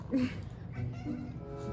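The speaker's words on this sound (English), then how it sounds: "This is our cat" A pet cat gives one short meow up close indoors, with a low household murmur behind it.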